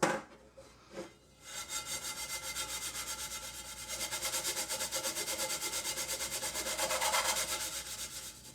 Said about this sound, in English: I'm trying to give it a really good scrub because just wiping it's just not happening.